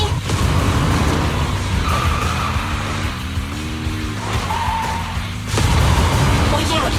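A car races and skids in the Zenless Zone Zero game, engine droning with rising and falling pitch, tires squealing loudly across the run, while a voice speaks over the engine noise.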